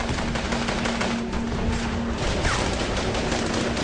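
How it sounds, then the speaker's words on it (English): Rapid gunfire in a firefight against an enemy bunker, a dense, loud stream of automatic shots rattling continuously without pause. "But Al-Qaeda fighters continue to return fire."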